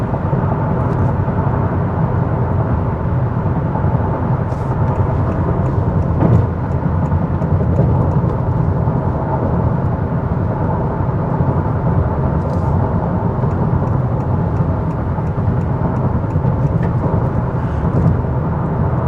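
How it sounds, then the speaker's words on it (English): Steady low road rumble and tire roar inside a 2023 Honda Accord cruising at 65 mph, a constant, fairly loud drone with no talk. "the road noise here is not bad. It's actually quite quiet in here"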